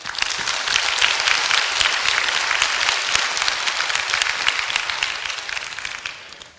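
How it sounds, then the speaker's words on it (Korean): A church congregation claps steadily and loudly for several seconds, dense and sustained, then tapers off at the end. "우리 주님께 박수합시다"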